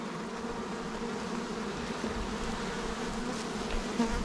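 Honey bees buzz around a hive board, a steady dense drone of many wings close up, continuous and even throughout, with no voices.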